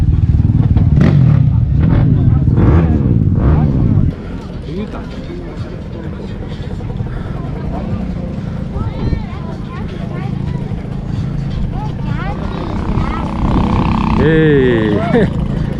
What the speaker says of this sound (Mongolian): За мотоцикл одоо уралдаан болох газартаа бол ирчээд байна.